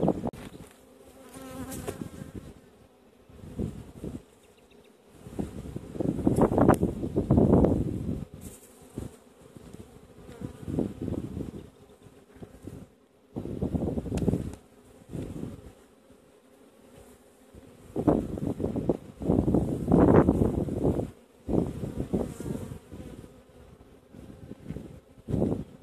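A dense, droning buzz of a honeybee swarm close by at the hive entrance, swelling and fading in waves with some wind noise on the microphone.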